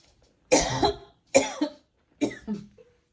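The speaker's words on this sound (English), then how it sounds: "that cough is still lingering" Three harsh coughs, close by, spaced roughly a second apart, each a rough burst trailing off, with near silence between them.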